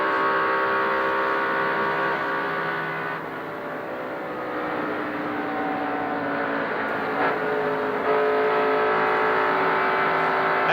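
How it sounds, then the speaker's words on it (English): A 1988 NASCAR stock car roars around Michigan International Speedway, its loud engine note rising and falling as the driver gets on and off the throttle over several seconds, with no voices. "you can hear Cale getting in and out of the throttle"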